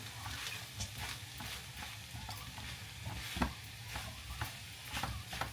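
Tomato paste frying and being stirred in a pan, with a steady soft sizzle and scattered stirring clicks and scrapes throughout, fairly quiet and close.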